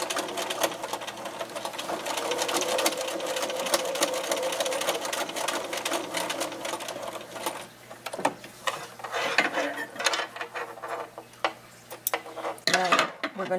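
Sewing machine stitching back over a seam on a lanyard keychain card holder, a fast close mechanical whir that runs steadily, then breaks into shorter bursts with clicks and handling noises.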